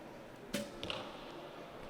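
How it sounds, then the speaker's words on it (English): Recurve arrow striking the target at an indoor archery bronze match, a sharp impact followed by a second smaller thud, quiet hall ambience around it. "Bit of body language to shuffle that arrow in."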